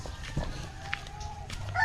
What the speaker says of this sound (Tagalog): Kaming manok dito guys.